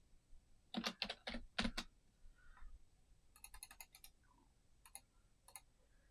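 Typing on a computer keyboard: a quick cluster of crisp close key clicks, a pause, then further scattered bursts of tapping, quiet and alone with no voices.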